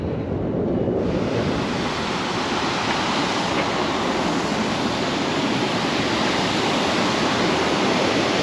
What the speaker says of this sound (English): they still run water through the trough that you see across over there to the mill